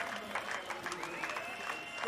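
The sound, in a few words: cricket crowd applauding, standing ovation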